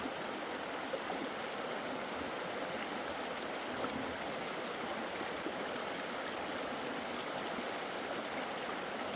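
Water spraying steadily from a small mini hose during power washer testing, a continuous hissing, rushing stream at moderate distance that holds constant throughout with no talking.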